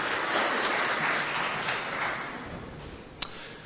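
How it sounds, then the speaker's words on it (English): A conference audience at a DevTalks Cluj 2016 software development panel claps for the AV crew, a steady, dense round of applause that fills the room for several seconds, with one sharp tap near the end. "A big round of applause for our AV people there."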